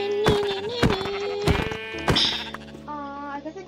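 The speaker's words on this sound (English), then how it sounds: "Oh, hey, sheep" Sheep bleating in a survival video game, a few short nasal bleats repeating close by over steady game music and ambient tones.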